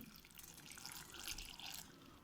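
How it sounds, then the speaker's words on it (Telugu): Water poured into mutton keema in a cooking pot, a steady close pouring splash lasting about two seconds, fairly quiet and with no talk over it. "ఇప్పుడు వాటర్ వేసుకుందాము."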